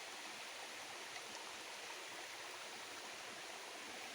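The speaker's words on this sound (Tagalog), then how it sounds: "May agos ng tubig dito sa ilalim." A steady, soft rush of water flowing underground, continuous and even, with no other sounds standing out.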